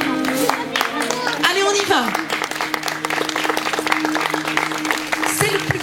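Wedding guests clap for the arriving couple, a lively round of applause close by with an officiant's voice speaking over it and music sustaining underneath.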